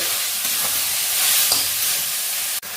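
Vegetables sizzle and fry in a pan over high gas heat while being stirred for a quick wheat flour breakfast, a constant loud hiss with occasional scraping knocks of the spoon and a brief dropout near the end.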